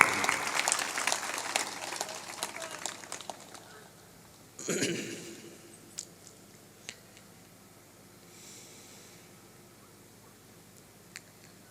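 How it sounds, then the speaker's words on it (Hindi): A crowd at an outdoor religious gathering claps loosely for several seconds, then the clapping fades into scattered claps and quiet, with a brief louder burst midway. "ताली बजा दो।"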